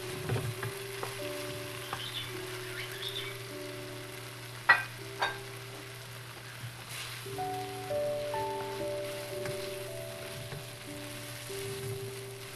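Ground beef and boiled potatoes frying on a high flame, a steady close sizzle with a couple of sharp scrapes from stirring and a low hum underneath.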